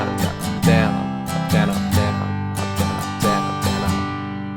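An acoustic guitar strums the chorus of a song in a simple, steady pattern, with bright, full strokes on each beat and no voices.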